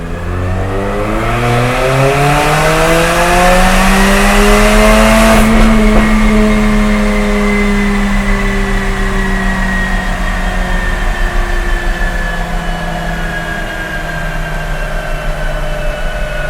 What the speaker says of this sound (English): we're going to run our test from 2500 RPMs to 6500 RPMs, doing a third gear pull with it open.